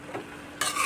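Cabbage sukka being stirred in a frying pan, a soft scraping stir that turns to a louder, steady sizzle of frying vegetables partway through, heard close with no talk.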